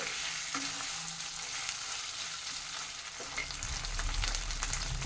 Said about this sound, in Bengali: পনিরটা আমার হালকা ভাজা হয়ে গেছে